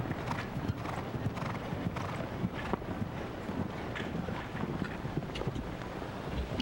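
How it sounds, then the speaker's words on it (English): A 1991 Holsteiner gelding, 16.3 hands, jumps an outdoor show-jumping course. Its hooves beat a steady, rhythmic clip-clop on the footing, with a brief whinny and some wind noise, and no talk over it. "now she's on Storm Chaser, Holsteiner gelding, 1991 model, standing 16 3 hands"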